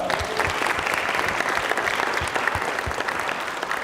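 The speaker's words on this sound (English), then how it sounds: "let's give her a round of applause." Audience applause at a student research poster session, a dense, steady burst of many people clapping close by, with no talk over it.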